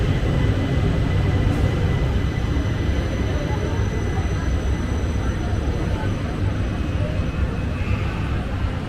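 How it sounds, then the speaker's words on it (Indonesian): A Jabodebek LRT light rail train rolls into the platform with a broad, continuous roar and hum that stays loud and even from start to finish, with voices faintly underneath. "Ini dia LRT yang tadi langsung masuk lagi ke jalur 1"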